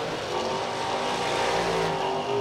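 Dragsters launch down a drag strip at a racing event, a dense, loud, sustained engine roar heard from a distance, with no voices.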